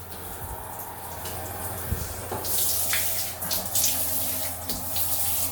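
Water sprays and splashes into a bathroom sink during mold and mildew stain cleaning, a steady hiss of running water with brief knocks and clatters, close and fairly quiet.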